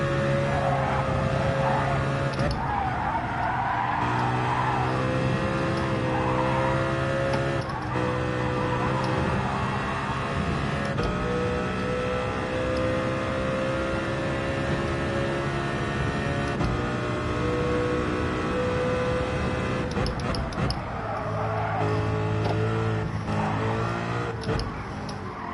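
A race car in Gran Turismo 7 revs and runs through gears during a race, a continuous layered engine whine with shifting pitches that rises and falls over the whole stretch, fairly quiet overall.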